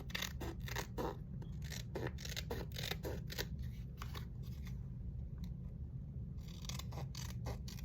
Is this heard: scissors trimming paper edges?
yes